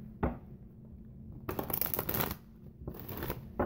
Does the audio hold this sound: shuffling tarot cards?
yes